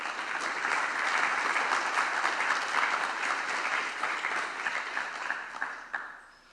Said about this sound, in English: let us give a round of applause for our speaker and welcome him to the stage